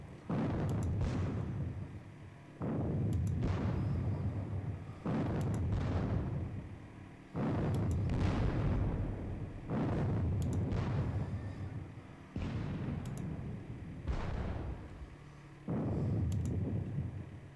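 Artillery fire in a Battle of Waterloo and Wavre war game, a regular series of heavy booming cannon shots about every two seconds, each with a rumbling decay, fairly faint, with no talk.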